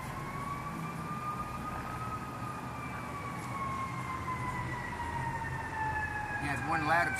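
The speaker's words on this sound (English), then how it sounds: "He had one ladder truck go by just a second ago." A fire department ladder truck passes with its wailing siren, a steady, moderately distant sweeping tone over traffic rumble that shifts slightly in pitch as it goes by.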